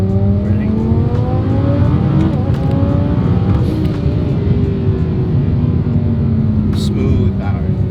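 Twin turbo Audi R8 in sport dynamic mode with traction control enabled accelerates hard, a loud close engine roar rising through the revs with gear changes and turbo whooshes, and a voice talking over it.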